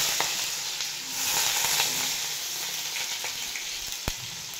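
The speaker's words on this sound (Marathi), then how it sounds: "तेल गरम झाले बघा थोडे, आता याच्यामध्ये ना बटाटा घालून घेते" Finely chopped potato frying in hot oil for sabudana khichdi, a soft continuous sizzle and hiss with a few sharp clicks of utensils, moderately quiet throughout.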